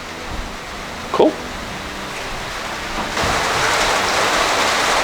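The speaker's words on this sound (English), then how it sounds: "Just listen to that rain." Steady rain falling on a high desert homestead, a constant wash of noise that grows louder partway through, with one brief knock standing out near the start.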